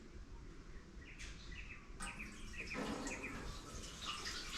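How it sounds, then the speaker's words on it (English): Vinegar pours into the fuel tank of a Ducati Pantah in a cramped wash bay, a steady close trickle and splash that grows fuller as the tank fills. "is just fill the tank with vinegar"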